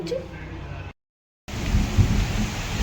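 Rain roars loudly and continuously, cut by a short silent gap, with low rumbling underneath.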